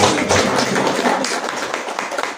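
A church congregation bursts into dense, loud applause, many hands clapping together in a steady wash that fades slightly toward the end.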